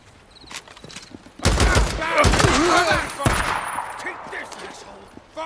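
AK rifle fire from the video game Days Gone breaks out in a dense burst of overlapping shots, preceded by lighter scattered noises and then fading into softer clatter, with a voice briefly speaking beneath it.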